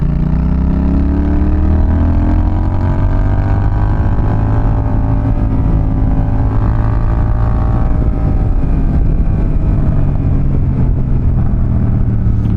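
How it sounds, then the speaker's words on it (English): Honda Rebel 1100 DCT motorcycle exhaust while riding, a loud continuous engine drone with slowly rising and falling pitch, close and steady throughout with no talking. "This exhaust is loud as hell."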